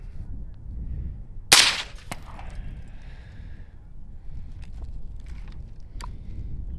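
A single muffled gunshot through an Omega36M suppressor with subsonic or supersonic rounds, a sharp near crack followed by a brief second snap and fading tail over steady background noise, with a few faint clicks afterward.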